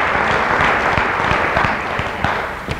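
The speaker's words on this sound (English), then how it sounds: "Can we give one more round of applause for Stan and Tom?" A church congregation applauds, many hands clapping in a dense, steady roar with a few louder individual claps standing out near the front, fading slightly toward the end.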